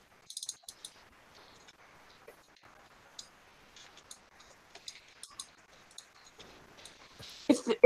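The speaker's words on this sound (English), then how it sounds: "If me typing is being picked up too much on my mic" Sparse, faint keyboard typing caught by a desk microphone: scattered light clicks and taps in irregular bursts with quiet gaps, growing a bit louder and denser near the end, with no talking.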